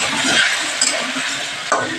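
Water poured into a pan of frying rui fish curry, giving a dense hissing sizzle with a few short bursts of bubbling, close and fairly loud.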